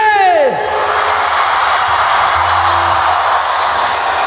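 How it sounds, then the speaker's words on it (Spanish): A crowd at a live concert shouts and cheers in a steady, loud roar that runs the whole time, opening with a whoop and a short rising yell. "Que se escuche ese grito bien fuerte."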